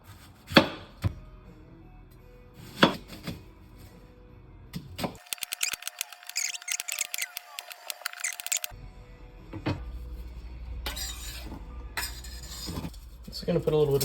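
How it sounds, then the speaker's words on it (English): Chopping vegetables on a board in a home kitchen, with sharp scattered knife knocks and clinks separated by quiet pauses and a stretch of hissy noise, heard alongside intermittent talking. "Then we're just gonna do basic chopping of the vegetables."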